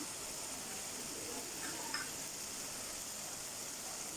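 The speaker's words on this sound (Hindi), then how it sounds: "बस सिर्फ 5 मिनट और मैं इसको भुनाई करूँगी ताकि अच्छी तरह इसका जो पानी वगैरह या कुछ है वो शुष्क हो जाए और घी छोड़ दे हमारा हलवा" Pumpkin halwa roasting in ghee in a pan, a steady, fairly quiet hissing sizzle that runs unbroken throughout with one faint clink partway.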